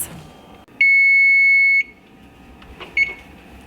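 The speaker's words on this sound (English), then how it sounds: "Set the timer for 7 minutes." A kitchen timer goes off while chicken parmesan bakes in the oven, giving one loud, steady electronic beep held for about a second, then a short quieter chirp moments later.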